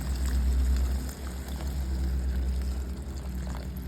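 Water splashes and gurgles into a soup pot already holding yogurt and turmeric, a low churning pour with small bubbling pops that carries on steadily for several seconds.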